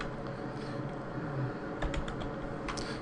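Typing on a computer keyboard while entering data into a database tool, with quick irregular key clicks running continuously at close range over a low background hum.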